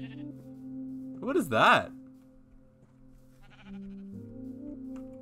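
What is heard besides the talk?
sheep bleating in video game Minecraft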